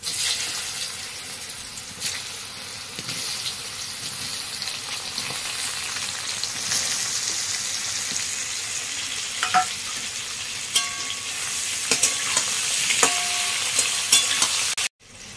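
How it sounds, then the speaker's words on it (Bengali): Boiled papaya and potato pieces frying in hot oil with cumin seeds and bay leaf, giving a steady, close sizzle throughout, with scraping and clinking of stirring growing busier toward the end. "সেদ্ধ করা এই পেঁপে আলুগুলো আমি ছেড়ে দেবো।"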